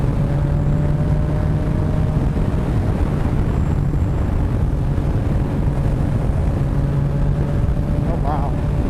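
Yamaha FZ-09 motorcycle on a test ride at a demo day: a steady, droning engine hum under heavy rushing wind noise, continuous throughout.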